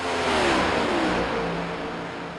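Race car engine in iRacing's Next Gen Series at Kansas, a loud steady high-revving drone with whining harmonics that sweep as the throttle eases, close and continuous with no talk.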